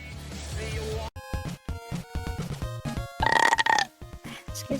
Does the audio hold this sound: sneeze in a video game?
no